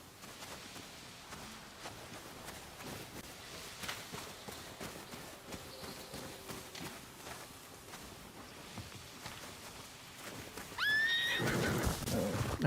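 A horse in the samurai video game Ghost of Yotei, with soft hoof steps and movement through most of the clip, then a loud, close neigh near the end.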